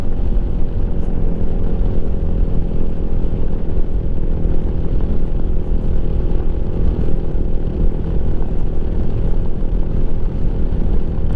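A 2023 Lifan KPM 200 motorcycle engine runs hard and steady at high revs, a loud, dense drone held close up for the whole stretch with no voices over it.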